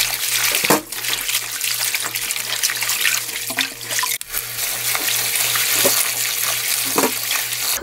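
Rapeseed greens for kimchi are rinsed by hand in a basin of water, giving steady splashing, sloshing and swirling water with occasional louder splashes over a low electrical hum.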